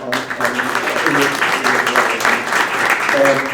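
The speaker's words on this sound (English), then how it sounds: "I want you guys to give a round of applause to Katie Foster" Sustained audience applause fills a meetup room after a talk on React Native and Expo, steady dense clapping throughout with voices mixed underneath.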